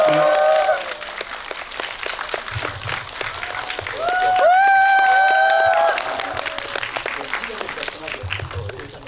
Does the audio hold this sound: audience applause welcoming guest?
yes